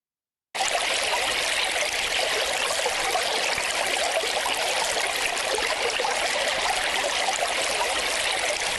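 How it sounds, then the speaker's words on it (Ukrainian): Spring water flows steadily from a woodland source on a village outskirts, a constant close trickling rush that starts abruptly and runs alone without voices. "Так на околиці села Хотин, що на Рівненщині серед дерев розташоване джерело."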